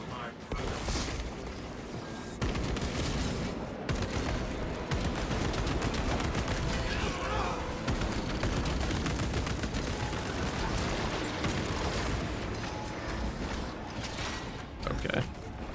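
Sniper and other gunfire in a Space Marine video game battle, dense rapid shots and mechanical clanks running almost continuously and loud, with game voices mixed in.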